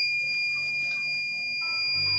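A smart gas detector sounds its alarm during a gas leak test, two steady high-pitched electronic tones held continuously, clear and fairly close.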